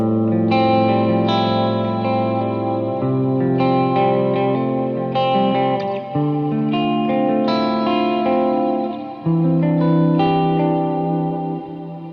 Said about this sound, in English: The ambient modded reverb.